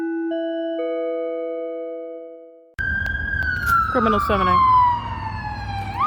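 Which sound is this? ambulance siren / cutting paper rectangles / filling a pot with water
ambulance siren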